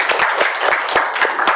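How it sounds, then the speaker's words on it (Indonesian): Students in a classroom applaud two classmates, a short, lively burst of close clapping from a small group. "Tepuk tangan untuk mereka berdua."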